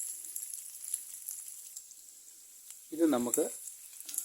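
Squid pieces frying in a pan, a faint, steady sizzle that continues under a short stretch of speech.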